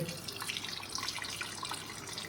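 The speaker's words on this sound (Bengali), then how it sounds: "আপনারা দেখুন দেখতে পাচ্ছেন নিশ্চয়ই যে আয়রন গার্ডটা ওয়াশ হচ্ছে খুব সুন্দর স্পিডে জলটা বেরোচ্ছে" Water rushes steadily from an Aquaguard water purifier's iron guard filter as it is washed out, a close, continuous hissing flow with no talking.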